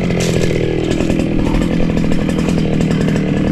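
A gasoline grass cutter runs outdoors during a farm harvest, its small two-stroke engine buzzing loudly and steadily close by, with a fast rhythmic pulsing throughout.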